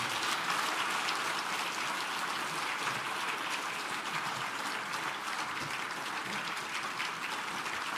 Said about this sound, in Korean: 우리 이 시간 큰 박수로 모시겠습니다.